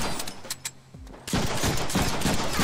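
Gunfire in a Deadpool video game: dense bursts of shots and explosive cracks kick in partway through, loud and continuous after a quieter stretch of low rumbling game sound.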